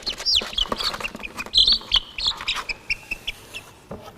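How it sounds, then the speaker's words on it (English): A live baby chick chirps repeatedly in a classroom setting, a string of high, thin peeps and cheeps at irregular intervals, close and fairly clear against faint background noise, with no voices. "It is a baby chicken, and a baby chicken is called a chick."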